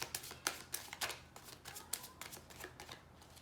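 Tarot cards riffle and slap in a quick, quiet shuffle, with a rapid run of soft papery flutters and small taps, close up and alone.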